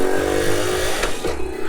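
A 1986 Honda Super Cub 50, the three-speed round-headlamp model, with its small engine running close by and revving briefly up and down in a buzzing, uneven note.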